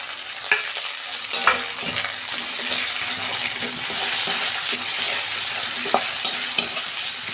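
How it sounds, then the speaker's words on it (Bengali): Onion is dropped into a pan of hot oil with garlic and dried red chillies for a fried leafy-greens dish. It makes a steady, loud sizzle with occasional sharp clicks from stirring, and no one speaks. "এই যে পেঁয়াজটা দিয়ে দিচ্ছি।"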